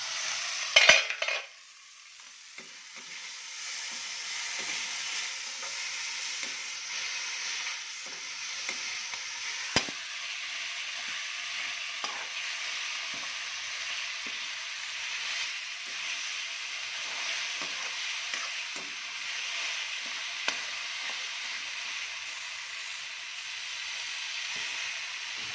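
Egg curry frying in a pan while being stirred, with a constant soft sizzle and light scraping touches that run on steadily for the whole stretch, with no talking.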